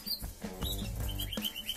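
Small songbirds in a compact aviary full of cages, chirping and trilling in quick bursts close by, several calls overlapping with short pauses between phrases.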